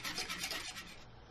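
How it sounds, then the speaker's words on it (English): A whisk scrapes and rubs through thickening bechamel sauce in a pan, a steady rasping swish for about a second that fades slightly toward the end, with no talking. "And then we're going to whisk."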